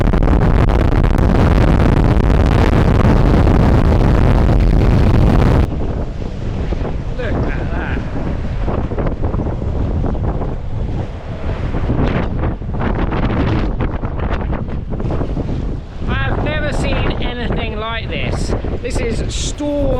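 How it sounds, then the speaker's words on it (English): Storm Eunice gusts near 70 knots roar across a microphone on the water during foiling, a loud buffeting blast that drops to gusty, rumbling wind with splashing and a voice talking. "In all my time alive, I've never seen this strong a wind."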